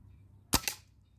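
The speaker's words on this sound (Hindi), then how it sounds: "अंकु ने जो है एक शॉट लगा दिया है" A single sharp crack of an NX200 air rifle fired outdoors, close and brief, with a quick second snap right after against a quiet background.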